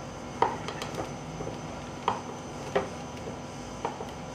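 A knife scores guide lines around the outside of a layer cake, giving a few soft, separate taps and scrapes spaced out and close by, with no talk.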